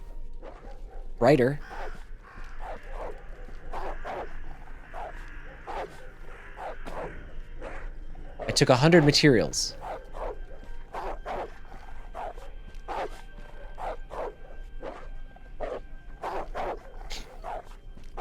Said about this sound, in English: Sounds like a real happy dog around here.